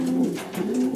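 Young racing pigeons coo softly and repeatedly, their low throaty calls overlapping close by.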